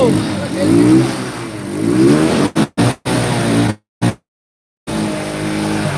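An old, freshly washed motorcycle at night starts up and revs loudly close by, its engine rising and falling, then sputtering into short bursts and cutting out before it turns over again, with voices nearby.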